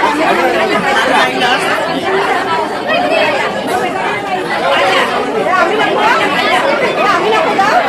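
A dense crowd chatters at an engagement ceremony, with many overlapping voices forming a loud, steady wash of talk that lasts throughout, close and continuous.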